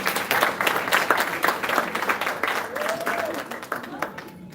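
Audience applause at a ceremony honoring school guidance counselors, a loud patter of many hands that thins and fades near the end, with a voice briefly rising over the clapping.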